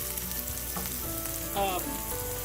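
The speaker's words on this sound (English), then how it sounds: "My potatoes are getting fried" Potato pieces frying in a pan over a low flame for a beef masala, a steady close sizzle with a few light stirring clinks, no voices.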